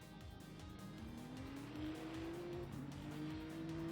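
A BMW race car in the sim game Le Mans Ultimate drives on, its engine drone rising steadily in pitch under rhythmic rumbling and a faint tire squeal, all quiet and continuous.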